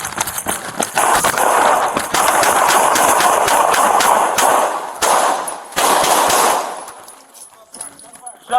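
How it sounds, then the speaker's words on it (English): A burglary suspect fires gunshots at police: a rapid, loud series of sharp cracks in dense bursts with short gaps, mixed with shouting. "Shots fired."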